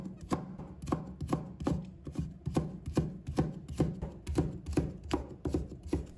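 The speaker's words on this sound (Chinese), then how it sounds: "再准备1条胡萝卜，把它切成丝" A knife chops a carrot into thin strips on a board, sounding as brisk, evenly spaced close thuds, about two per second, steady throughout with no talking.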